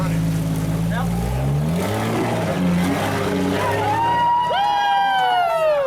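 A 4x4 engine revs hard while climbing a rock ledge about five feet tall on a trail, its loud, strained roar shifting in pitch as the throttle rises, before voices break out in cheering.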